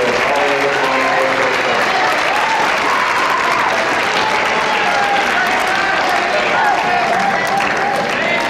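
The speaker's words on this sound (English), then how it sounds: "Let's give a round of applause," Dense, sustained applause from an audience at a school academic awards ceremony for students, even and loud throughout, with faint crowd murmur and a few voices underneath.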